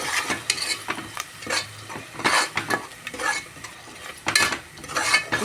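Ground onion masala frying in a pan for mint rice, with repeated close scraping and clinking of a metal spoon against the pan over a light sizzle, in uneven bursts.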